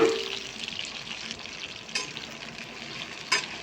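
Okra and spices frying in a pan for kara kuzhambu, a continuous close sizzle with a couple of short clinks from stirring.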